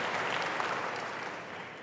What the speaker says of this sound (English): That's the only time Max Weber has ever gotten applause.